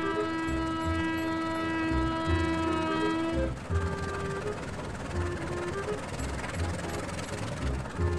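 A freight train rumbles along in a GTA video game ride, a steady loud rolling drone with sustained horn-like tones that break off briefly midway, continuous throughout with no talk.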